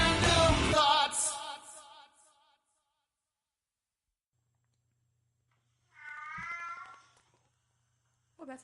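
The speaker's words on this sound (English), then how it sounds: "That's the cat." A cat meows loudly and close at the start, a drawn-out cry fading over about two seconds, followed by a quieter second meow after a pause of silence and a brief third sound at the end.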